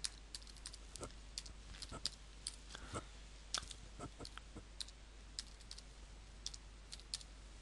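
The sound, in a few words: typing a password on a computer keyboard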